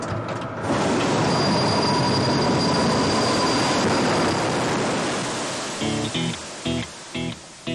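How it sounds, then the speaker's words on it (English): An Airbus A380 evacuation slide inflates over the wing with a loud, sustained rushing hiss lasting several seconds, then fades and gives way to a few rapid flapping thumps as it unfolds. "It allows passengers to get from a door here, across the wing to the ground, deploying almost as if by magic from here."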